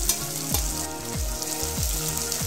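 Spices, garlic, ginger, carrot and coriander leaves sizzle steadily in a pan for a Maharashtrian varan phal, the close frying hiss marked by a few periodic stirring scrapes and no voices.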